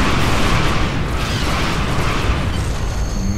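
Torpedoes explode in the Star Trek Online space combat game, a dense, loud wash of booming blasts and rumbling bursts that overlap without a break.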